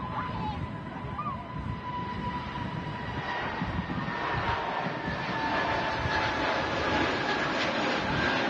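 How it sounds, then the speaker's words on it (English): A Scandinavian Airbus neo airliner taking off at Manchester Airport, a continuous broad engine roar with a faint whine, heard at a distance and building slightly toward the end. "Nice quick takeoff there from the Scandinavian Neo."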